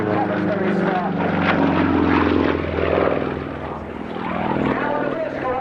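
An aerobatic propeller aircraft flick-rolls at an air display, its engine droning and swelling with changing pitch in the distance under a loud commentator's voice.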